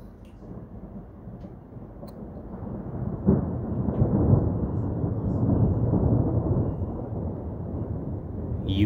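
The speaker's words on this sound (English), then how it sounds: "You can hear car alarms going off in the background because of the thunder." Thunder rumbles through a June spring storm in Bend, Oregon, a long, loud, low roll that builds after a sharp crack and stays sustained, with car alarms set off by the thunder faintly audible in the background.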